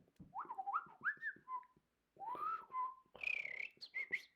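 A person whistles a warbling birdlike melody imitating a nightingale, with sliding pitches and trills in three short phrases, close and alone.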